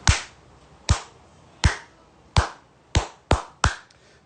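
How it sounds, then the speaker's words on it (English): Slow clapping by one person, seven sharp, evenly spaced claps ringing close and clear in a quiet room, with no talk. "I'm slow clapping you guys again."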